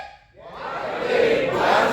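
A group at a company leadership training session shouts the chant "GMN" in unison, a loud crowd roar that swells after a brief pause and holds strong to the end.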